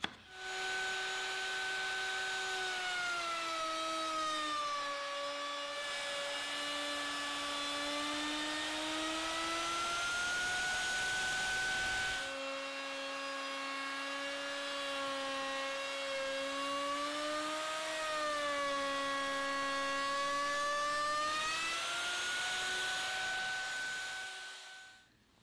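A wood router fitted with a thumbnail edge bit cuts along a table edge, a loud sustained high whine with shifting pitch across two long passes, separated by a brief drop in load.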